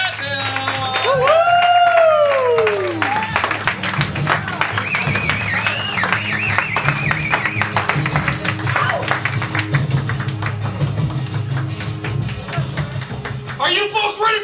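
A comedy show audience claps and cheers continuously, with a rising whoop near the start and scattered shouts throughout; a voice speaks briefly at the end.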